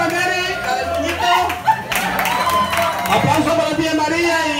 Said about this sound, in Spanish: Aplauso para Mary y su pareja.